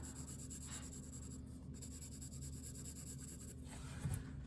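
A pencil shades on paper in close, continuous scratchy strokes that rub back and forth without pause, done for a dark value in a Bargue drawing exercise, with no speech.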